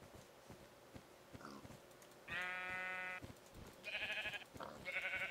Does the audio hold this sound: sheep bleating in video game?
yes